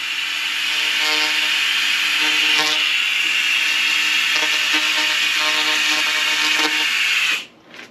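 A 2000-watt laser cleaner strips rust, giving a loud, close, continuous buzzing hiss with faint crackling pulses that cuts off abruptly near the end.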